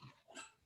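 A single short dog bark, faint and somewhat distant, heard alone in an otherwise quiet indoor setting.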